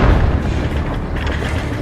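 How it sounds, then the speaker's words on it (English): A heavy, deep boom as a Humvee hits a mine during combat in Ukraine, a single loud low-frequency blast that fills the whole short clip. "It then also hits a mine"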